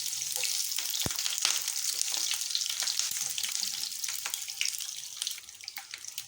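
Beef fat sautéing in a pan for Alexandrian liver, a continuous close hiss and crackle with a few faint clinks, steady throughout, no talking.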